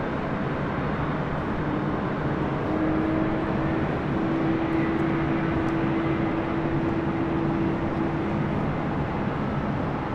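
Airbus A380 airliner arriving on runway 24 left at LAX: a constant, loud engine rumble with a sustained droning tone that holds through the middle, with no talk.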